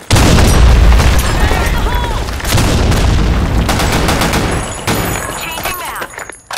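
A loud grenade blast and rapid gunfire erupt in a BlackShot first-person shooter match, thick and booming at first, then thinning toward the end, with voices heard over the shooting.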